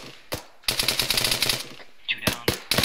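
Gunfire in ArmA 3 during a Navy SEAL operation, a single shot, then a rapid rattling automatic burst, followed by a few more sharp individual shots, loud and close.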